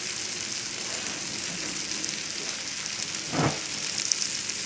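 Shrimp and vegetables, zucchini held back, sizzle in a hot pan with a steady, even hiss that holds for the whole stretch, one brief louder crackle rising near the end, and no voices over it.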